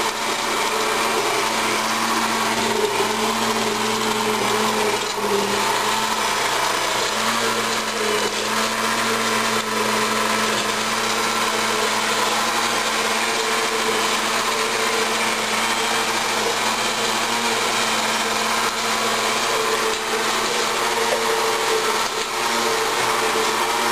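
A blender runs continuously at high speed while mixing a double chocolate cookies and cream protein shake in an apartment, its loud droning whir steady and close for over twenty seconds with no talk.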